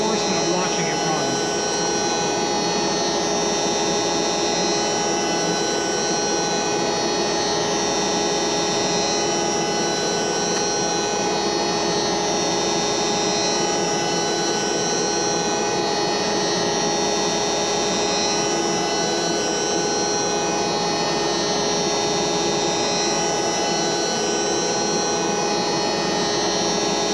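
CNC router cutting a pocket toolpath 1/8 inch deep, a steady continuous whine and hum of the spindle running unbroken throughout, loud and close with no talk.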